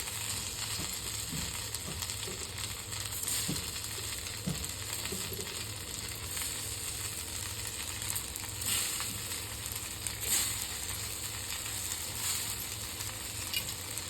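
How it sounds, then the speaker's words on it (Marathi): Potato and semolina patties sizzle steadily on a hot griddle, a continuous frying hiss with occasional soft clicks and pops throughout. "आता अशाच पद्धतीने मी सगळ्याच वड्या तव्यावरती फ्राय करून घेणार आहे"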